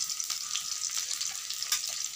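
Food frying in hot mustard oil, an unbroken close-up sizzle with scattered pops and light stirring scrapes over a couple of seconds, no talking.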